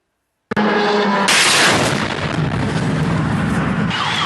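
A loud, sudden blast followed by a sustained roaring rumble and debris-like noise, with a second surge shortly after, heard outdoors at close range: explosions from drone strikes on Kharkiv.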